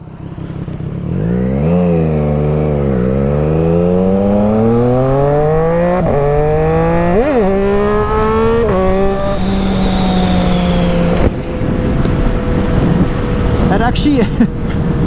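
A Triumph Street Triple 765RS motorcycle fitted with an SC Project exhaust revs hard and close, its engine note repeatedly climbing and dropping in sharp throttle blips, loud throughout and clearly the dominant sound.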